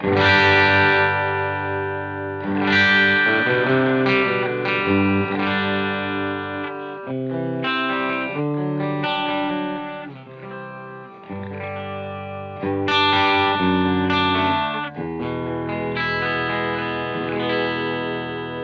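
Electric guitar through a nearly clean Hughes & Kettner Spirit of Rock amplifier, picked lightly, chords and melodic lines ringing with slight grit and a shimmering effect, played alone.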